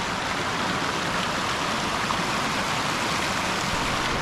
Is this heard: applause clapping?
no